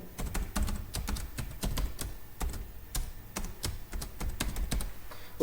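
Rapid, steady typing on a computer keyboard enters text into an Excel spreadsheet cell, with crisp close key clicks in an uneven rhythm and no talking.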